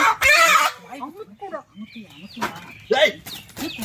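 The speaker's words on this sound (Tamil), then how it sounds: "ஒரு கருங்கோழியே சொல்லுது பாரு புடிடா" A black hen clucks in short, repeated bursts, close by, with a loud shout and other voices talking between the calls.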